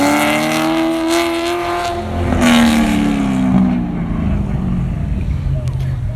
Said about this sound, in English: I can hear his exhaust in the speaker.